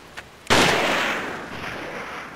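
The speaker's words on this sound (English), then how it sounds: "Oh, that's strange, a gunshot." A single loud gunshot from the survival horror video game Siren cracks out sharply, its blast then ringing and decaying into a long echoing tail, with no talk over it.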